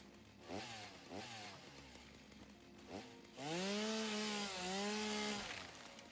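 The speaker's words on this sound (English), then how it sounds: "thinking maybe I take a chainsaw to this tree." A chainsaw in the Satisfactory video game cuts into a tree, a few short revving bursts giving way to a loud, steady whining drone that holds for several seconds before easing off.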